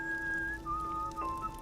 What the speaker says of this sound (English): Oh, Daddy's whistling.